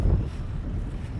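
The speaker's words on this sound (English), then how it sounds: "It is windy." Gusty wind blows across an open field on a Bluegrass horse farm, buffeting the microphone with a loud, rumbling roar that swells and eases continuously, with no voices.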